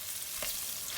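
Flour-coated chive crumbs are tipped into hot oil with scallions and fry in a wok, giving a faint, even sizzling hiss with one soft thud partway through.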